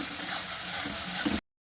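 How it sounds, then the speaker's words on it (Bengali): Ginger and green chili spice paste frying in oil for a vegetable curry, a steady close sizzle and crackle with light stirring, no voices, cutting off abruptly. "তো হালকা লাল লাল করে ভাজা করে নেব"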